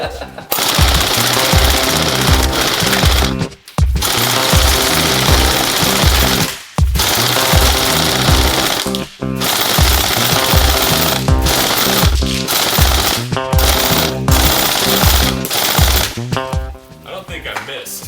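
Rapid, rattling bursts from a CYMA blowback AKM airsoft rifle, loud and close, with several brief pauses between long strings of mechanical clacking shots.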